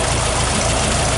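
A 1969 Volkswagen Beetle's 1500 cc engine idles while warming up, giving a steady, close, loud drone with no pauses and no voices.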